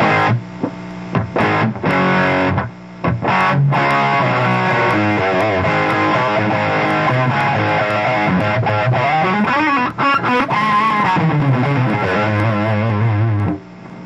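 An electric guitar through an overdriven Plexi-style tube amp, gain about a quarter up, plays a continuous stream of crunchy, distorted chords and bending runs, loud and close, with brief pauses between phrases.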